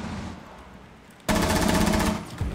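Video game gunfire erupts suddenly halfway through as a loud, rapid burst of shots after a quieter stretch, with no talking.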